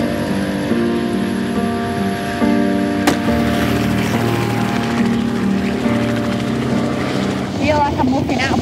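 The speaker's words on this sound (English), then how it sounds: "So it's an helicopter." A helicopter's rotor chops and drones steadily up close, with engine whine and wind noise running throughout.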